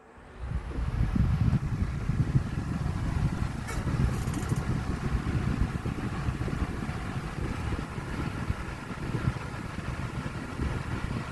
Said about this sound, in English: we're gonna start on the low